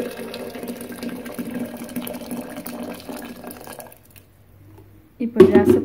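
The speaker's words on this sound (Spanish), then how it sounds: "el agua yo se la echo así, dando vueltas para que esté más rápido" Water splashes and trickles steadily into a kettle for several seconds, then stops; a brief clatter of a lid or pot follows.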